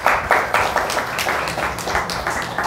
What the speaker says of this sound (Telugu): చప్పట్లు అందించండి.